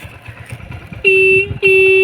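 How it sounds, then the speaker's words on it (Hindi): Two short, loud honks of a Hero Splendor motorcycle horn, each a flat electric beep, sound close by after a moment of low engine noise. "हॉर्न की भी आप आवाज़ चेक कर सकते हो।"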